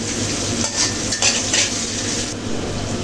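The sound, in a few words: dried red chillies frying in a pan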